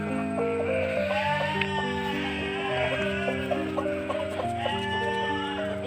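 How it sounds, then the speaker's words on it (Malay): Chickens cluck and squawk in aggressive, repeated bursts over a dense backdrop of bleating and other farmyard calls, all close and continuous. "tengok ayam tengah agresif tu"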